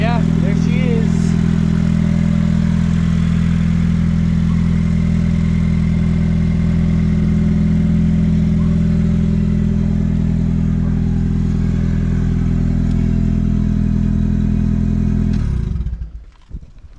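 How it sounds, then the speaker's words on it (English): A turbocharged 20-valve car engine running nearby, a loud, steady, throbbing idle held for many seconds before the engine shuts off abruptly near the end. "we want to just rev the crap out of it all the time because that's what car guys do"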